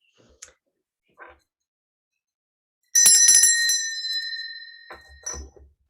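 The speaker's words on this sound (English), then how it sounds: "Sorry to ring my bell in those quotes" A bright bell rings once with a sharp strike and a long ringing decay, between a few soft clicks and taps before and after.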